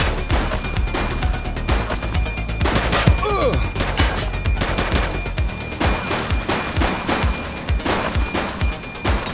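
Dense video game gunfire from a police game, The Precinct: rapid bursts of shots and automatic fire, loud and close, with repeated sharp cracks throughout and a short crash in the middle.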